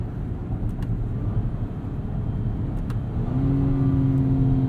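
A V6 engine in a 2022 Acura MDX hums beneath steady road rumble inside the car, its pitch rising gradually as the vehicle picks up speed.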